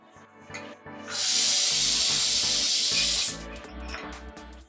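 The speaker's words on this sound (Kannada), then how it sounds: "ಸೊ ಈಗ ಇದು ಒಂದು ವಿಷಲ್ ಆಗಿದೆ ಇದನ್ನ ಈಗ ಆಫ್ ಮಾಡೋಣ" A pressure cooker of mung beans lets out a loud, steady steam hiss from its whistle for about two seconds, rising suddenly and cutting off, with soft music in the background.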